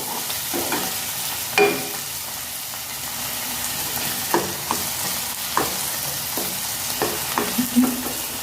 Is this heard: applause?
no